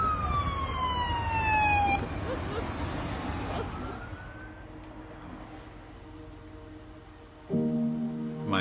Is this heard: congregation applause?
no